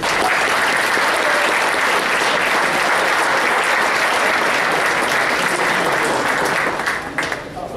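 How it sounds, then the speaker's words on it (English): Sustained audience applause for hockey award winners and players at a minor hockey association awards event, dense and steady throughout before thinning slightly at the end. "if everybody can give a big round of applause to all of our winners and players"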